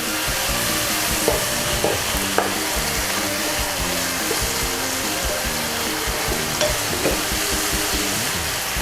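Chicken with sweet peppers and spring onion stir-frying in a pan gives a constant loud sizzle, with occasional scrapes and taps of the spatula stirring close by.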